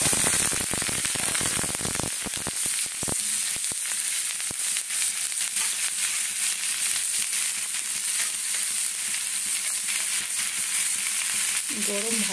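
Onion sizzles loudly in hot oil with black cumin (kalonji), a constant crackling hiss, busiest in the opening seconds with sharp pops and spatters, then settling into a steady fry with no talking.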